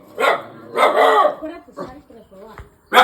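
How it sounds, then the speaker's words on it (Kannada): A dog barks close by in several sharp, separate bursts, with short pauses between them. "ನಾಯಿ"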